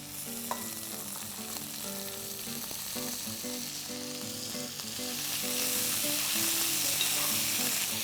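Diced carrots and green peas frying in a pan with green garlic, a soft steady sizzle under light stirring and clinks, rising slightly louder toward the end, with no talking.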